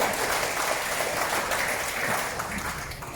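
Steady crowd applause fills a Demokrat party gathering in Jakarta marking SBY's 71st birthday, dense and sustained for the whole stretch, fading slightly at the end, with no voices over it.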